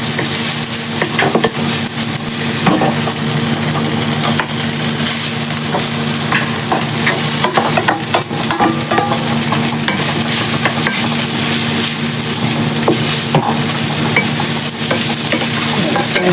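Garlic fries in a pan with a loud, steady sizzle and bursts of stirring throughout, close and continuous with no talk.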